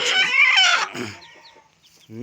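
Country-breed chickens, chicks and hens, cluck loudly and close by in a short, busy flurry of calls that fades briefly before one more cluck at the end.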